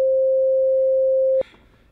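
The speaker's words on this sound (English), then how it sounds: "sine wave sounds like this" A pure sine wave tone holds steady and loud for about a second and a half, then cuts off abruptly with a faint click, leaving near silence.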